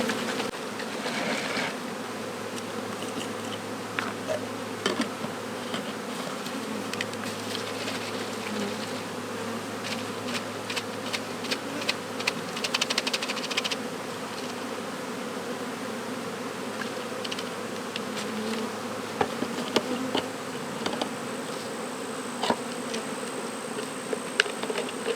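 Honey bees buzzing loudly inside a cup as they are shaken, a dense, continuous droning hum with brief rattling bursts, close by and without talk.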